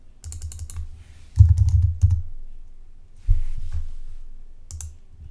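Someone types a search on a computer keyboard, close bursts of rapid key clicks separated by brief pauses, alone without talk.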